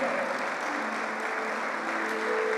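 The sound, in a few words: applause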